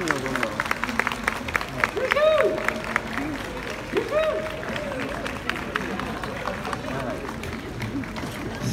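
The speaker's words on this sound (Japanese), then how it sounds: "盛大な拍手でお迎えください。" At an outdoor YOSAKOI dance festival in Mizusawa, a crowd greets arriving dance teams with sustained clapping and some cheering, mixed with festival bustle, a voice over loudspeakers and occasional tonal sweeps.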